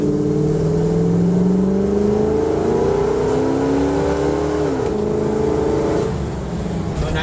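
A 1977 Ford Bronco with a fuel-injected 351 V8 and AOD automatic accelerates hard, engine note climbing steadily, dipping at a 1-2 gear shift, then pulling again, loud and close with no talk over it.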